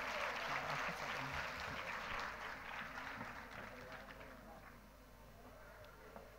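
Audience clapping fills a hall at a school performance day after the musicians play, a dense wash of applause that is loud at first and then gradually thins and fades.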